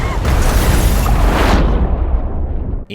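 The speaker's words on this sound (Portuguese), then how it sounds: "todos são surpreendidos com a explosão" A loud, close cabin explosion in the film Final Destination 6, with a heavy rumbling roar that fills the first seconds, then slowly fades before cutting off abruptly.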